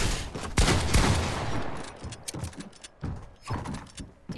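Gunfire from the Fortnite video game, a loud rapid burst of shots early on, followed by sparser scattered shots and clattering mechanical game sounds.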